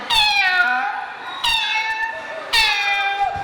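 A human voice imitates a kitten meowing three times, each a drawn-out, falling mew with short pauses between.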